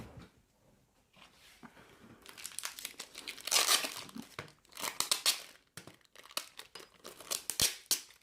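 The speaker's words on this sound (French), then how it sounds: "Le scotch est enlevé." Close crinkling and tearing of sticky tape peeled off a trading card pack, in irregular bursts, growing louder and sharper partway through, with no voices.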